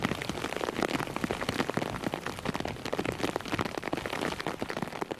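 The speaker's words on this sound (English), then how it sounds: "The bare soil surface is bombarded by raindrops." Heavy rain pounding on bare soil, a dense, steady patter of countless drops hitting the ground close by, loud and continuous with no voices.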